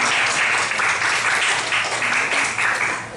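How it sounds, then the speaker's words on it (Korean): A church congregation claps together at a Sunday sermon to encourage students who have just finished their exams, a steady, full wash of applause that fills the room throughout. "우리 수고했다고 우리 박수로 격려하도록 하겠습니다"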